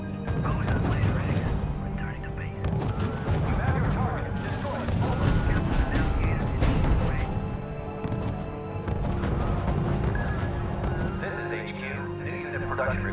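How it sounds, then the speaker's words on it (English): Gunfire and artillery in the R.U.S.E. strategy game's Battle of Monte Cassino, with dense overlapping shots and booms rolling continuously under game music and radio voice lines for the whole stretch. "Unit opening fire on the enemy."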